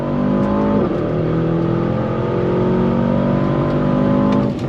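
A 2023 Aston Martin DBX 707 performance SUV accelerates hard under full throttle, its engine note rising loud and close through the gears with a brief shift dip.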